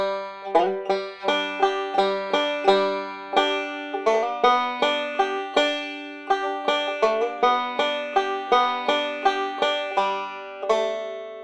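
A banjo plays a rolling finger-picking pattern of bright, twangy plucked notes in a steady stream, up close and with no voice.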